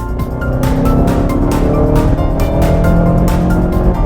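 A 2016 Mazda 6 Grand Touring accelerating hard from a stop, heard from inside the cabin as a loud, steady engine roar that holds throughout, with pulsing broadband noise and a rising tonal drone.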